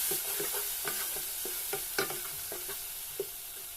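Ginger stir-frying in a pan for egg fried rice: a steady soft sizzle with repeated scraping strokes of a spatula, close and moderately loud, no talking.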